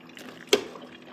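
Water drains through the filter of a single-serve pod coffee maker with a soft trickle and one sharp drip or plop midway, quiet and close.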